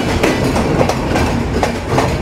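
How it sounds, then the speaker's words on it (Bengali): The broad-gauge Kapotaksha Express rolls slowly past Daulatpur Bazar in Khulna, giving a steady, rhythmic clickety-clack of wheels over rail joints with a continuous carriage rumble underneath. "আমাদের ট্রেন কিন্তু এই দৌলতপুর থেকে বেশ স্লো যাচ্ছে।"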